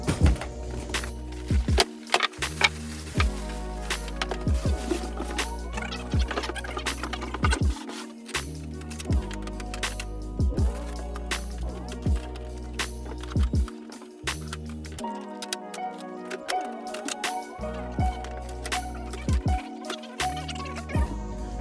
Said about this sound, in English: Next, we're going to take off all the protective materials.